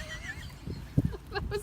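A voice imitating a goat, giving a short, wavering bleat-like call near the end of a brief clip, up close and fairly loud.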